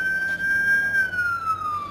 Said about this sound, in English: you can hear sirens all around the city this evening with people responding